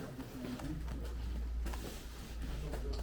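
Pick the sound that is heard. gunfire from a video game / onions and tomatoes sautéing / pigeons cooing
pigeons cooing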